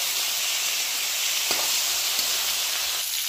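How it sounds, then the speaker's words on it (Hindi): Gular (cluster fig) frying in hot oil in a kadhai, a dense, even sizzle held at steady loudness, with a couple of faint soft knocks from stirring and no voices. "तो अब हम गुलर को पहले भून लेते हैं।"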